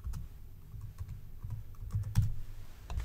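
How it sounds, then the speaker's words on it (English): Keys on a computer keyboard are tapped in quick irregular clicks, soft and close, with a few heavier strokes near the end. "simply click on it and type in whatever you would like the project"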